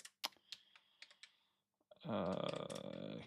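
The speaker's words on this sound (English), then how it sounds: "let's type it again." A computer keyboard being typed on, a handful of crisp, close key clicks at an irregular pace, then cut off by a louder sustained tonal burst of another noise.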